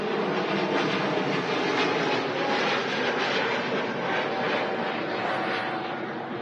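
Lufthansa A320neo airliner in a new livery at Manchester Airport, a loud steady jet roar with a broad rushing texture and a faint high whine, holding constant and close throughout.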